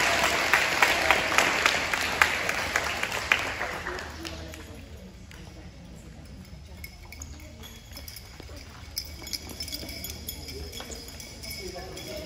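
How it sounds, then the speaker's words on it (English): Clapping from an audience at a third grade awards ceremony, a lively burst that fades after about four seconds, leaving room noise and a few scattered claps with voices talking. "round of applause for everyone"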